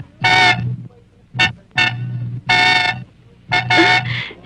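A car horn honks several times in short and longer blasts, loud and close, with gaps of quiet between them.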